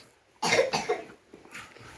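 A person coughs twice in quick succession nearby, followed by a softer third cough.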